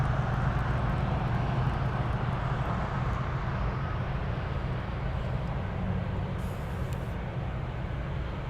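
Airliner engines roaring steadily as a plane flies in to land at Anchorage airport, a continuous broad rumble heard from a distance without talk.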